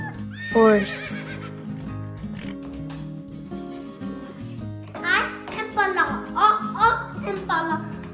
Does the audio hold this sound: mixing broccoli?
no